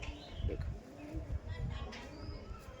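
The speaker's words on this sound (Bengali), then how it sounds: "এগুলো আমার সব ধাড়ি পায়রা আনানো" Soft, low coos of adult tournament pigeons repeating close by, with faint rustling and a murmur of voices in the background.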